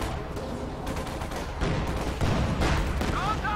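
Su-85 tank destroyer cannon fire during a Company of Heroes 2 battle, dull booms and distant gunfire mixed into a busy, continuous wash of combat noise.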